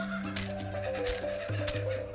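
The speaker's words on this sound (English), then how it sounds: "What fascinating noises come out of the emu?" Emu calls at a zoo exhibit, a few short low honking and booming notes, moderately close, over faint background ambience.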